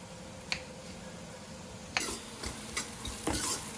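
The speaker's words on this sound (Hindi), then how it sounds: "लगातार चलाते रहिए प्याज को, जलना नहीं चाहिए प्याज" Onions fried in a pan and stirred continuously so they do not burn: a quiet background sizzle, a lone scrape early on, then a cluster of several sharp spatula strokes toward the end, close and without talk.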